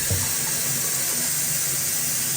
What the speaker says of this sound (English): the water is not fully turning off. It's still coming through. You can hear it running through